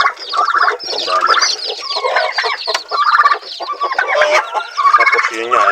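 Chickens and chicks on a mini farm make dense, close clucking and high peeping, with overlapping chirps continuing throughout.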